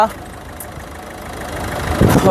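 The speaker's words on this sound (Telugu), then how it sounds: "చూడ వినచ్చు ఇంజన్ యొక్క నాయిస్ సైలెంట్గా అయితే ఉందండి" A 2018 Ford EcoSport Titanium (O) engine idles with a steady, quiet low hum, growing slightly louder toward the end as a voice talks over it.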